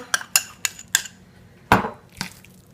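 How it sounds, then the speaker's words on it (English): A utensil knocks and scrapes against a bowl as seasoning is mixed into potatoes, with several sharp taps and a longer scrape, close and clear. "I'm just going to kind of sprinkle that in here and then mix it around really well"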